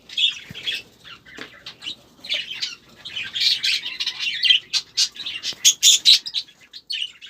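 A budgerigar chick chirps as it hatches through a hole in its egg, giving a close, irregular stream of thin, high cheeps and squeaks with short pauses between them.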